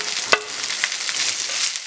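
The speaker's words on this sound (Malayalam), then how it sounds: "ഈ സവോള ഒന്ന് നന്നായിട്ട് ബ്രൗൺ കളർ ആകുന്നോടും വരെ ഒന്ന് വഴറ്റി കൊടുക്കാം." Chopped onions with ginger and garlic sauté in a pan for a pork curry, browning. A steady bright sizzle runs throughout, with a sharp spatula scrape near the start and softer stirring knocks afterward.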